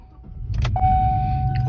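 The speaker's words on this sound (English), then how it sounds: "let's try out our clone key, see if it turns on the truck" A 2014–2019 GMC Sierra pickup is started with a cloned Xhorse universal flip key: a brief rustle and clicks lead into a sustained low engine rumble, with a steady electronic chime tone running through it, close by.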